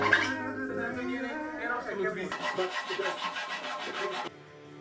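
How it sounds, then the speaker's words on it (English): A hand file rasps back and forth in intricate holes cut in a wooden desk, a soft, close, continuous scraping that turns into quicker, brighter strokes before stopping. "The next step was filing the saw marks in those very intricate holes."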